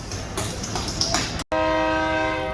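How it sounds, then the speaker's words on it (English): A train rumbles past with a broad roaring wash of noise, then after a brief cutout a loud, steady multi-tone horn blares close by. "it's a loud train. It's a very loud train."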